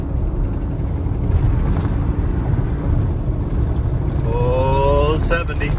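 Chevrolet Silverado pickup cruising at about 65 mph on the interstate, a steady loud low road and engine rumble with tire and wind noise from inside the cab, a short whistling tone near the end.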